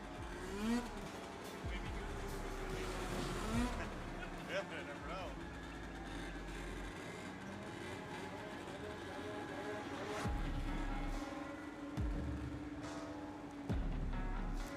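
Vintage snowmobiles racing around an ice oval track at Connell Park Raceway in Woodstock, engines droning and rising in pitch as they pass, with a commentator talking over the racing noise throughout.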